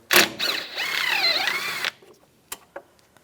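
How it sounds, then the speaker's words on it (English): A 10mm socket backs a bolt out on a 1998–2010 Volkswagen Beetle during speed sensor replacement: a close, rising-and-falling mechanical whir lasting over a second, followed by a few sharp metallic clicks, no talking. "We're going to take this bolt out right here, use a 10mm socket."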